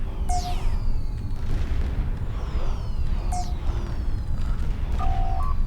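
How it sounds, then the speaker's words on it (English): Fireworks go off in the space game Star Trek Online at the end of a race course, with repeated booming bursts and whistling streaks over a steady low rumble. "Ooh, I get fireworks."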